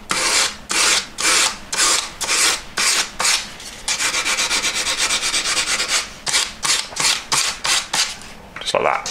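A file rasps back and forth across the metal jaw of a pair of pliers to round it off, loud and close, in rhythmic strokes with a brief stretch of faster continuous filing midway.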